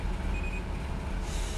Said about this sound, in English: Sounds like the brakes sound like a hurricane or something blowing.